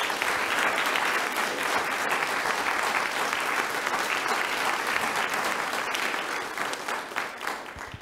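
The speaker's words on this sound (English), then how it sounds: "Let's give them one more round of applause." Sustained applause fills a school board meeting room as the audience honors students, a dense steady wash of clapping that tapers slightly near the end.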